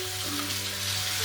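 Chicken for a spicy tortilla wrap fries in a pan with a constant, even sizzle and hiss, steady and close with no speech or breaks.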